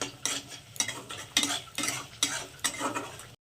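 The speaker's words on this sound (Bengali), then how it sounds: "এবার মশলাটাকে খুব ভালো করে একদম তেল বেরোনো পর্যন্ত কষিয়ে নেব" Spice paste for kochu chingri (taro with prawns) being stirred in hot oil in a pan, with rhythmic scraping strokes of a spoon over a steady sizzle, close and fairly loud, about six strokes, no talk.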